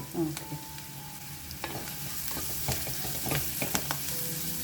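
Onions fry in a pan with continuous crackling sizzle and intermittent stirring clatter close by, steady and moderately loud throughout, with no talking.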